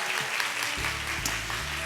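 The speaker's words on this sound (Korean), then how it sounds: "뜨거운 박수 부탁드립니다" Sustained audience applause at a church book talk, dense clapping filling the whole stretch with music tones running underneath.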